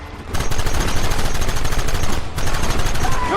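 Heavy volleys of gunfire in a Red Dead Redemption shootout in West Elizabeth, loud and continuous with overlapping shots and a brief dip midway, no talking over it.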